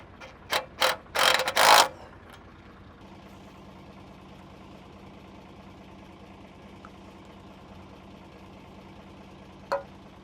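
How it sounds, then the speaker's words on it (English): A small impact wrench running nuts onto a dump truck axle during an axle swap, giving a few short loud bursts of hammering near the start, then a long steady mechanical hum, and one faint brief tap near the end. "Just going to run everything in with my little impact."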